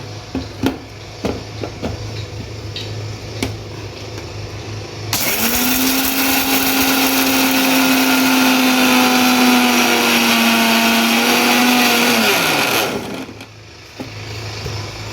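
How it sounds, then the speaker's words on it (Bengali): An electric mixer grinder grinding peanuts roars loudly and steadily for about eight seconds, then winds down, with faint knocks and clicks before and after. "এই যে এই বাদামগুলো গ্রাইন্ড করে নিয়েছি"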